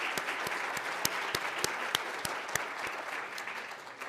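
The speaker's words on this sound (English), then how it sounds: "I want to give them a round of applause." A conference crowd at the 2025 Shape of the Region event gives a sustained round of applause for the organizing team: dense, even clapping with a few crisp individual claps standing out, heard at moderate distance.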